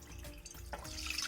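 Water is poured into a saucepan on a gas stove while preparing sago payasam, a short close splash and trickle lasting just over a second.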